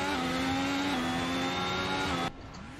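Race car engines in an F1 video game, racing flat out in a drag race to the line at the British Grand Prix; a steady high engine whine holds, shifts pitch once, then cuts off abruptly near the end.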